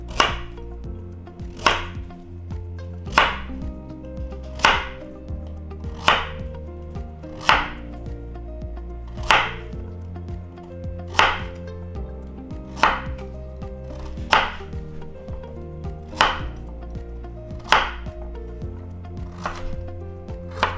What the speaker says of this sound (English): You don't want to cut them too thick and you don't want to cut them too thin.